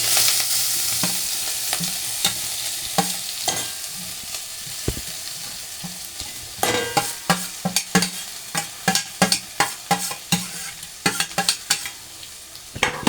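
Cumin powder, green chili, turmeric and onion fry in a pan with a soft sizzle and scraping stirs that start sparse, then turn into a rapid run of sharp strokes close to the mic.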